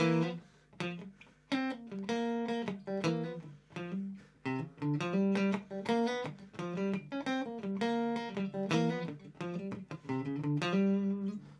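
An electric guitar plays a rhythmic groove of chord stabs and short melodic licks, clear and upfront, with no talking.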